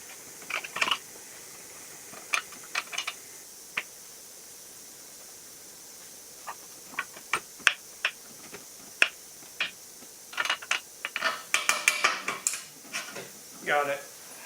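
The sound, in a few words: bolting a motorcycle shock to the linkage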